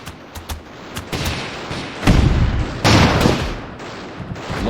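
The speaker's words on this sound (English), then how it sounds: "Now, the bombs are going to do a lot of damage." Bombs and gunfire burst in the airship battle game Airships: Conquer the Skies, with sharp cracks, a couple of heavy booming blasts in the middle and scattered smaller pops, loud and without speech.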